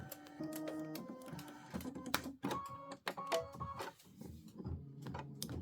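An Aveneer embroidery machine stitches out an OESD Boo Manor tiling scene tile, its motor whirring in shifting tones over a steady, rapid mechanical clatter, close and uninterrupted with no talk.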